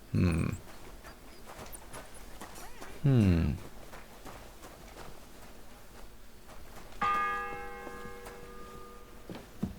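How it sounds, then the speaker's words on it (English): A single church bell in Kingdom Come Deliverance II strikes once and rings out with a slowly fading tone, following two short vocal sounds over a quiet outdoor ambience. "The fourth bell."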